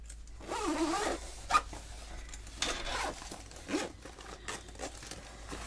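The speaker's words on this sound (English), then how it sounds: "I caught my zipper in there, so I'm going to have to make that repair" A zipper on a travel-size fold-and-zip craft bag is pulled in a few separate bursts, with close, raspy zips broken by pauses and light handling rustles.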